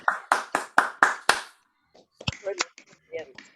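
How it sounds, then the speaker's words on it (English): Applause follows an online poetry reading: six sharp, evenly spaced hand claps sound close and alone, then stop, and a few short fragments of speech follow. "an enormous round of applause for some fabulous poetry"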